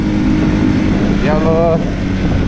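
A motorcycle with a broken clutch idles with a steady, close engine rumble that persists throughout, with a brief higher whine rising in the middle.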